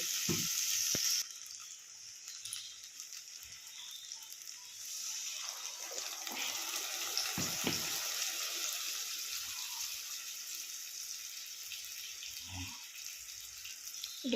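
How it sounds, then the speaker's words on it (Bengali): Paneer soaking water is poured into spices frying in a pan on low heat, giving a soft, continuous sizzle and watery hiss that settles into steady bubbling with faint clinks, no talk. "পনির ভিজিয়ে রেখেছিলাম সেই জলটা দিয়ে মশলা ধোয়া জলটা দিয়ে দিতে হবে"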